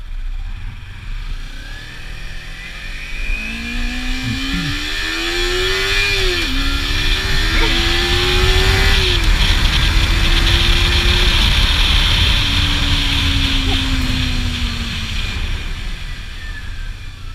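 A motorcycle rides along the road, its engine droning loudly and continuously with rising and falling revs as it accelerates and shifts through gears, wind rushing throughout.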